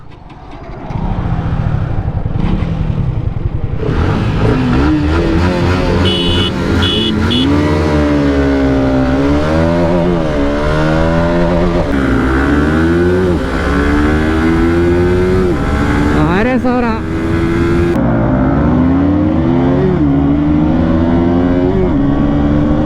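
A KTM RC 200 with a 39-tooth sprocket, a Pulsar RS 200 and a Yamaha R15M start up, then rev loudly and close in repeated rising and falling bursts over a steady idle.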